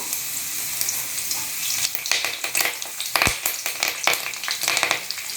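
Crushed ginger and curry leaves sizzle in hot oil for a crab masala gravy, a steady crackling hiss with sharp spattering pops and a few stirring clicks, close and alone without talk.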